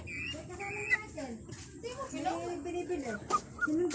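A chicken clucks in short bursts at an outdoor Filipino home, heard under children's voices and chatter, with a dog also nearby.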